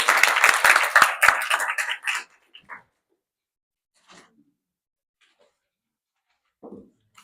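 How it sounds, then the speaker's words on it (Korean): Audience applause greeting a lecturer introduced at a personal color seminar, a dense burst of clapping for about two seconds that quickly trails off, followed by near silence with a few faint scattered noises. "큰 박수 부탁드리겠습니다"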